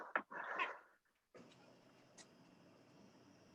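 A dog whimpers and yips in short, close bursts over an unmuted home microphone during an online council meeting, followed by a quiet stretch of faint background hiss.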